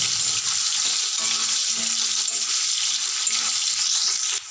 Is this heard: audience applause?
no